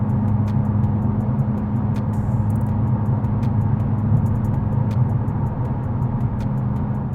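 Inside a Hyundai Elantra N driving in N mode, a steady low engine and road drone hums continuously, with faint, sparse clicks and ticks over it.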